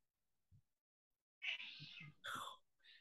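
A cat meowing for attention indoors, with a soft thump first and then several breathy, whispery meows, each rising in pitch.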